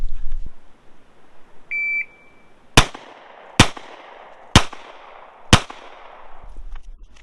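A shot timer's start beep is followed by four loud, sharp gunshots spaced roughly a second apart during a timed shooting drill at an outdoor range, each crack trailing off quickly.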